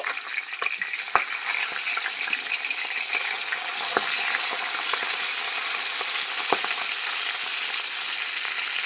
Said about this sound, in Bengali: কড়াইয়ের তেল ভালো মতন গরম হয়ে গেছে আমি ইলিশ মাছের মাথাটা ভেজে নিচ্ছি